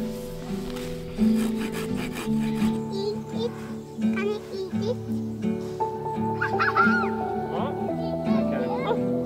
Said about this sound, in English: See how you're sawing it on your leg?